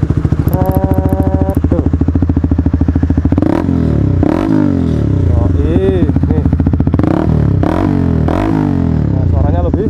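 A Honda CBR150R Facelift fitted with a Tridente carbon muffler in racing mode revs loudly and close, its exhaust rising and falling in repeated throttle blips while someone talks over it.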